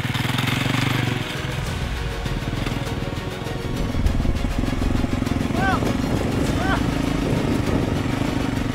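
A motorcycle ride with a steady, loud engine drone and rumbling vibration throughout, the rider speaking briefly over the engine noise.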